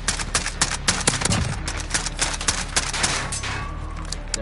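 Dense rapid gunfire in a shooter video game, a loud continuous string of shots and bursts filling the whole stretch with little pause.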